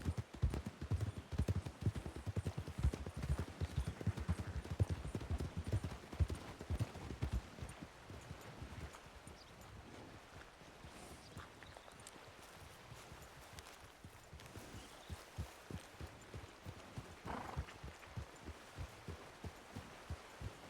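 Horse hooves clip-clop in a steady, fairly loud rhythm in WildRP, heaviest over the first several seconds before easing into lighter, quieter steps, with no talking.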